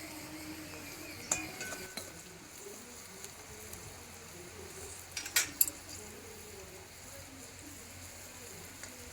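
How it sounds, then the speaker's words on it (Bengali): Onion and garlic fry quietly in a pan with a soft, steady sizzle, while a spoon stirs and scrapes at intervals with a few sharper clinks against the metal. "পেঁয়াজ রসুন ভাজা হয়ে গেছে ভালো করে,"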